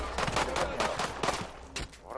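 Cluster strike explosions in the video game Warzone pound out as a rapid, dense string of loud blasts and crackling bursts, one after another in close succession.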